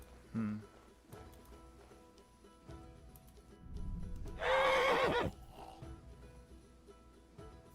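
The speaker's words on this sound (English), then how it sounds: "Why did that horse make all that noise?" A horse in Kingdom Come: Deliverance II whinnies loudly in a rising, wavering cry, preceded by a brief snort and some faint hoof clatter in a quiet scene.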